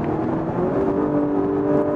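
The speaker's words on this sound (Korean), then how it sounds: "엔진 사운드도 운전하는 즐거움을 더 고무시켜주는, 더 자극시키는 요소가 되죠" An Audi S5 coupe with a TFSI engine rated at 353 horsepower drones steadily while driving on the road. It holds a low, even engine hum with a faint tonal whine rising slightly partway through, and no one talks over it.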